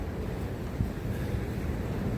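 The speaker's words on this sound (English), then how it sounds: "A windy winter's day, which is clearing up" Wind blows steadily across a Tasmanian beach on a winter day, making a constant low rumble and buffeting with no pauses and no voices.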